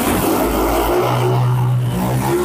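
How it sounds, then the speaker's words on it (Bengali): A used motorcycle in good condition is started with the self-starter and revved, its engine roaring loudly and close, rising and holding through the short stretch with no talk. "ইঞ্জিনে একটাই কাজ, সেলফে চাপতেছি গাড়ি স্টার্ট।"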